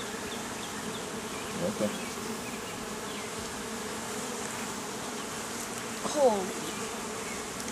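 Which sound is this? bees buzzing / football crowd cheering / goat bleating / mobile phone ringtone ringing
bees buzzing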